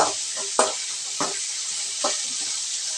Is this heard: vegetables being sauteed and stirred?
yes